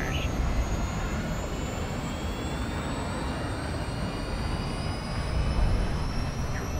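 A missile streaking through the air in Call of Duty Modern Warfare II, a steady loud roaring rush with faint rising whines, sustained throughout with game voice radio chatter underneath.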